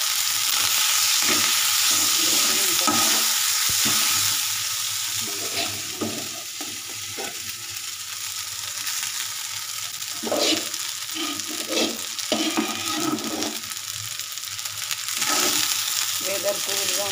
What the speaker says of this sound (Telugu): ఇక పులిహోర అయితే చేసుకుంటున్నాను ఫ్రెండ్స్